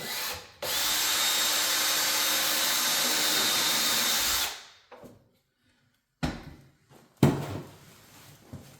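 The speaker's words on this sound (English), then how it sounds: "I'm going to take a pilot drill bit, go directly in the center of that hole" A power drill whirs steadily for about four seconds boring a pilot hole for a doorknob in an interior door, then winds down, followed by a few brief clunks and rustling handling noises.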